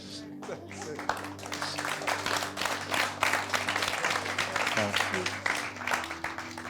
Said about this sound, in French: Ah, puis les applaudissements.